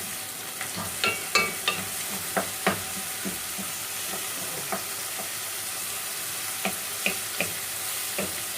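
Mung beans and sardines sautéing in a pan, with a steady broadband sizzle and a scattering of sharp spoon-against-pan scrapes and clicks as the mixture is stirred, no voices.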